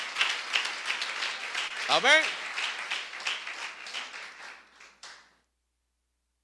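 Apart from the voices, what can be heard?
congregation applause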